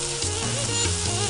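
Curry leaves hit hot oil for flattened rice pulihora, making a loud, close, continuous sizzle with a steady tonal sound running over it.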